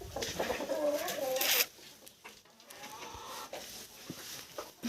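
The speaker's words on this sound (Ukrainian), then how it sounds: "Кури, що ви тут ганяєте?" Chickens clucking and squawking close by in a busy burst, then quieter scattered clucks with rustling in the background.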